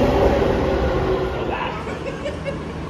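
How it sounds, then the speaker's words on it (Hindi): A Delhi Metro train pulls into the station with a loud rumbling whoosh that settles into a lower hum and faint clatter as it slows, surrounded by light platform ambience. "भाई हमारी मेट्रो आ चुकी है और अब हम घुसेंगे दिल्ली मेट्रो में"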